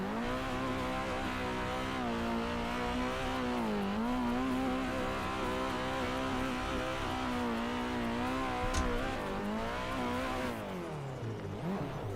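Turbocharged drift cars in a racing video game rev and whine continuously, the engine pitch rising and dipping in long sweeps, loud and close with no talk over it.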